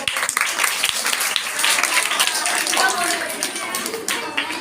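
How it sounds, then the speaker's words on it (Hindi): Crowd applauding at a comedy stage event of Pakistani political impersonations, a sustained wash of clapping with some voices mixed in. "अब मैं बुलाती हूँ पाकिस्तान के प्राइम मिनिस्टर इमरान खान को आप सबकी तालियों में।"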